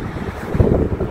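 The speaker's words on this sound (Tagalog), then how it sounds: "Yeah, ang hangin. Uy, mahangin." Strong wind blows outdoors by an industrial park in Antwerp, Belgium, buffeting the microphone in loud, gusty rumbles throughout the brief moment.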